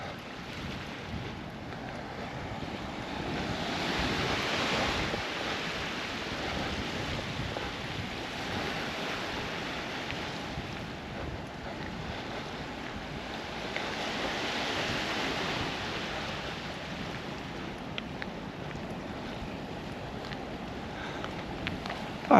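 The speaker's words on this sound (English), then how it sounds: "let you listen to the waves and let Paddy off." Ocean waves wash steadily at the water's edge on the beach at St. Aubin, Jersey, with soft surges swelling and fading over a constant hiss of surf and light wind, and no one speaking.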